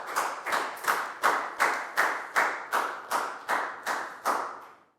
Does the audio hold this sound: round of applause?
yes